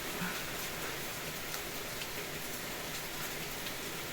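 Rain falls in a steady, even hiss of fine drops over an outdoor garden, soft and unbroken with no voices.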